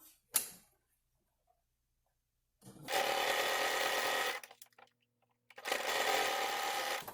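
Two sustained bursts of a domestic sewing machine stitching fabric for a beginner unsponge project, each lasting about one and a half to two seconds, close and steady, separated by quiet, after a brief click at the start.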